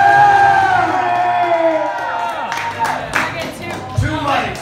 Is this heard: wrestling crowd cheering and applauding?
yes